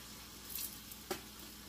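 Food cooking down in a pan with chicken grease, a quiet, even sizzle with a brief clink or stir partway through, close by and alone.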